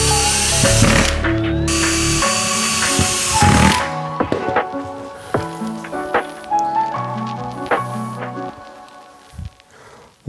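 A power drill drives screws into wood: loud whining motor bursts at the start, then a series of shorter spinning pulses and clicks of the driver seating screws, close-up with no talk.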